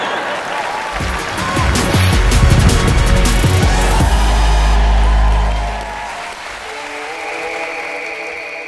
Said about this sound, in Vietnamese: một tràng pháo tay nồng nhiệt